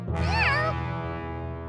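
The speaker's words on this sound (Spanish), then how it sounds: "¡Un gato!" A single clear cartoon cat meow from Curious George, close and fairly loud, with a rising-then-falling pitch, followed by a steady background hum.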